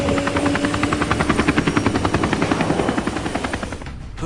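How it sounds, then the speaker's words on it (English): A military helicopter in an Army of Two video game cutscene, its rotor thumping in a steady fast rhythm under a loud engine whine, fading slightly near the end. "This is Chamin Su's chopper."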